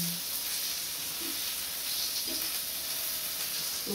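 Chicken wing dings sizzle in a pan with a steady, bright hiss that runs throughout, moderately close, with a few faint background tones and no speech.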